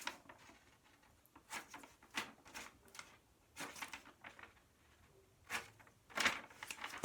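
Paper being cut with scissors to remove squares from each corner of a sheet, a series of short crisp snips and rustles coming in irregular bursts, close and fairly quiet, with no talking.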